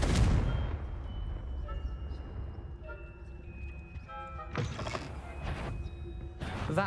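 The Confringo fire spell goes off in Hogwarts Legacy with a sharp fiery burst and rumble, followed by softer magical chimes and clatter, then two more sudden bright blasts near the end.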